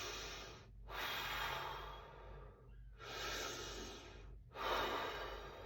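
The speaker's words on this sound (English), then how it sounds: "I am breathing with my mouth open." A singer draws deep breaths in through an open mouth, three long broadband inhalations separated by short pauses, close and fairly loud with no other sound.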